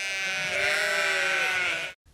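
A sheep bleats during shearing with a long, loud, wavering cry close by that cuts off abruptly, followed by a brief low sound.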